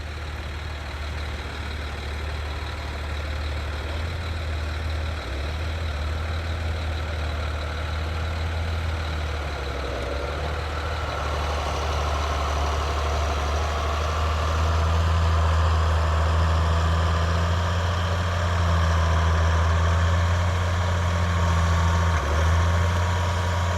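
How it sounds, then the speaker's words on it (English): A manure truck's engine idles nearby on a farm, a deep steady diesel rumble that holds throughout and swells slightly louder partway through, with no talking. "So we're gonna go pull the manure truck out"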